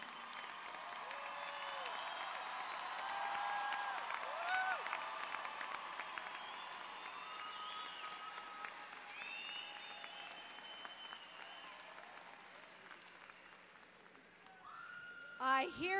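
A large crowd claps and cheers at the 2014 Southern Connecticut State University undergraduate commencement, a sustained, slightly distant roar of applause that swells, then gradually thins before a brief louder burst at the end.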